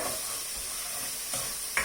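A spoon stirs golden brown fried onions into a sizzling vagar tempering for vegetable khichdi, a steady, close frying hiss with a couple of soft scraping strokes.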